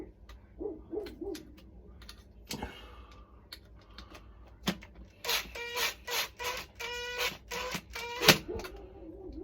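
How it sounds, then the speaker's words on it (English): Impact driver tightening screws on a Hoover washing machine while its carbon brushes are replaced: a burst of rapid rattling hammer impacts, preceded by scattered clicks, squeaks and handling noises. "you got to be careful when tightening with an impact driver"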